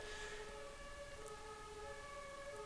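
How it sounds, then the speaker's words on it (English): A fire vehicle's siren wails in the distance as steady, drawn-out tones held over a constant low rumble of traffic, faint throughout with no voices. "Oh, it's not an ambulance. It's a fire vehicle."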